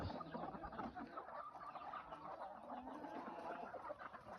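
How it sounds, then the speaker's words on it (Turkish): Chickens cluck and chatter steadily in an enclosed coop, with small high peeps from chicks mixed in throughout. "Civcivler mi çoğaldı bu? Ne ötüyorlar?"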